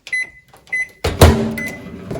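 Microwave oven heating a bowl of Maggi noodles for 30 seconds, with a steady high beep-like tone in short repeated bursts followed by a louder clunk and a broad running hum.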